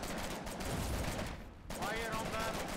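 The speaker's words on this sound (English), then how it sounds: "we're laying down some pretty good cover fire" Sustained gunfire in the war game Foxhole, rapid overlapping shots in a continuous crackling rattle, with a brief dip midway before resuming, fairly faint and steady.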